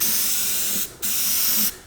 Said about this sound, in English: shake the can, and we're just going to spray